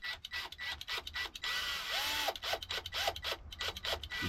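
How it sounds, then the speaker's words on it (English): A metal bolt is screwed by hand into a homemade live bait float, giving a soft grinding, rubbing sound in short bursts with brief pauses, close and fairly quiet. "We're going to run this bolt in here a little bit."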